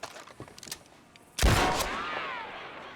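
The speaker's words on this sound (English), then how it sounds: "just shoot the handle" A single loud gunshot in Red Dead Redemption 2, fired at a door handle, rings out sharply and leaves a lingering echoing tail after quieter ambient game sounds.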